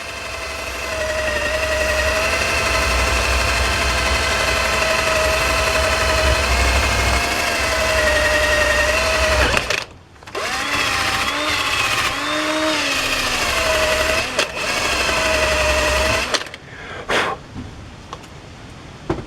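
A wire wheel on a power tool scrubs rust off a Chevy Silverado brake caliper bracket, a steady loud whirring grind that cuts out briefly then resumes with varying pitch.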